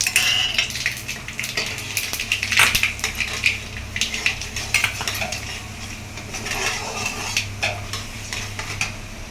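Black cumin seeds hit a hot, uncleaned pan while cooking a Bengali spiny gourd dish, giving a soft sizzle beneath steady scraping and clinking of a utensil stirring against the metal.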